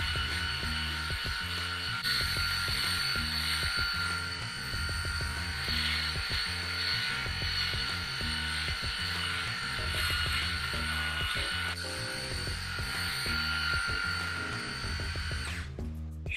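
A Xiaomi Mijia S500 electric shaver cuts through three days of beard growth with a steady motor hum and rapid scratchy buzzing, close and loud, running continuously and cutting off near the end.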